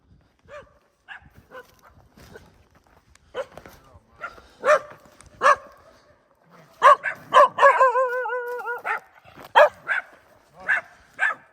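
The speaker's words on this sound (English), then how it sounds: "Dogs are making the turkeys gobble." Dogs bark near a hunting camp in the Arizona desert, a series of sharp, loud barks and yips spaced irregularly, with a burst of overlapping yelping in the middle; turkeys may gobble faintly among them.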